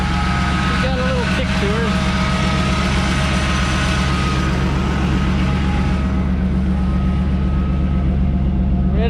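A Chevrolet S10 pickup engine running at idle after being revived, a loud, steady low rumble throughout with a brief high whine early on, while someone speaks a few words over it.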